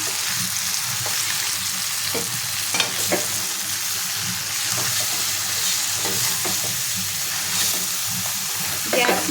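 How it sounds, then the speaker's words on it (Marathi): Ginger, garlic, chilli and coriander paste frying in a pan as it is mixed with spices for dal mundi, a constant close sizzle broken by repeated scraping stirs of a spoon. "ही जी पेस्ट बनवलेली आहे अद्रक लसूण मिरची आणि कोथिंबीरची ती टाकून घ्यायची आणि मिक्स करून घ्यायचे पुन्हा एकदा"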